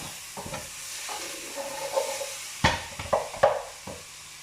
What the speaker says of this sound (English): Give these a stir around.